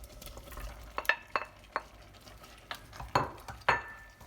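Sausages stirred into rougail simmering in a pot: quiet scraping and soft clinks of a utensil against the pot, several distinct knocks over a low sizzle, close and unhurried.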